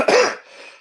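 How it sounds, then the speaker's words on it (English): A single sharp cough from a person nearby, loud and abrupt, trailing off into quiet within a second. "I don't know what you say when somebody coughs"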